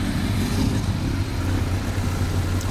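A 2016 GSX-S1000F motorcycle engine idles loudly and close by in a deep, steady rumble that swells slightly as it revs.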